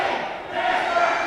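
A loud wrestling crowd at a live event in West Newton, Pennsylvania roars and cheers in a steady, dense wash that swells slightly partway through.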